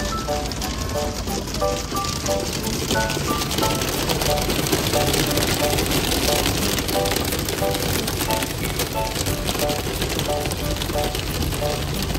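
Steady heavy rain drumming on a moving vehicle in Hamilton, Ontario, dense and continuous, with faint music and a voice in the background.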